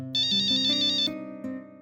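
An incoming call on a mobile phone plays a bright, melodic ringtone, a quick repeating electronic tune that is clear and close, with no speech over it.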